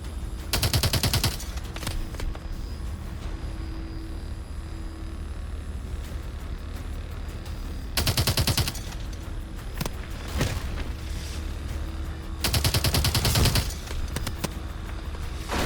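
Machine gun fire in Call of Duty Advanced Warfare: three loud rapid bursts about a second long each, spaced several seconds apart, with single sharp shots between, over a steady rumbling battlefield background.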